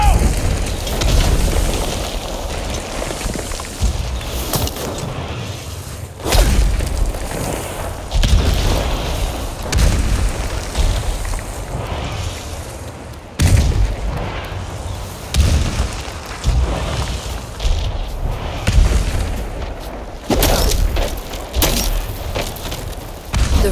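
Heavy booms and crackling blasts from enemy gunfire and explosions fill a battle in Ghost of Tsushima, loud and nearly continuous with repeated surges, while voices speak over the din at times.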